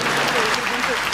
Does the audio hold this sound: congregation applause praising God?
yes